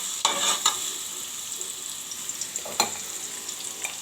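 A large spoonful of crushed garlic fries in a small amount of oil in a pot on the stove. It gives a soft, steady sizzling hiss with a few brief louder crackles and stirs.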